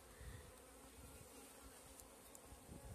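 Honeybees buzz in a dense, steady drone at an open hive during a May box inspection, close and continuous with no voices.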